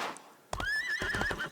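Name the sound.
horse neighing in Disney Infinity 3.0 video game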